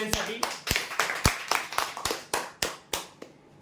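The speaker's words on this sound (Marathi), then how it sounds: "जोरदार टाळ्या होऊ" A dozen or so sharp, evenly spaced hand claps at a prize draw, close and fairly loud, fading slightly toward the end.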